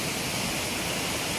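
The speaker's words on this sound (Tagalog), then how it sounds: "Medyo malakas yung agos ng tubig." Strong water rushes steadily through a stream in Snowdonia National Park, a dense continuous hiss and roar with no voices.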